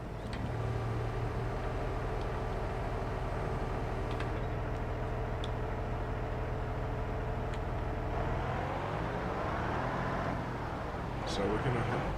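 Tractor engine driving in Farming Simulator 25, a steady low mechanical drone with a rising whine near the end as the engine revs, heard alone at moderate level.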